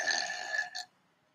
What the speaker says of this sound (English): It's a burping spider.